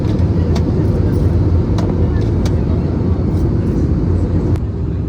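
Inside the cabin of a Nepal Airlines A320 descending toward Kathmandu, a loud, steady low roar of engines and airflow fills the space, with a few faint clicks.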